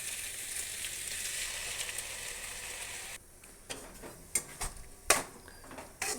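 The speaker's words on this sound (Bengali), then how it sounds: "এবার এর মধ্যে আমি আদা রসুন বাটাটা দিয়ে দেবো।" Ginger garlic paste goes into onions frying in a pan, a steady bright sizzle that suddenly drops quieter, then scattered sharp clicks and taps of a spoon against the pan, close by with no talking.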